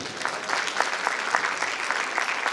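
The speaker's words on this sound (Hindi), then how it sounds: "जैस्मिन कॉस्मेटिक्स के लिए भरपूर तालियां होनी चाहिए।" Audience at a facial beauty class clapping for a cosmetics sponsor, a lively burst of many hands with distinct claps popping out of the steady roar, close and fairly loud.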